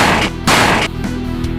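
A mantis shrimp punch rendered as explosive blasts: two loud, booming bursts close together with rumbling decay between, no voices.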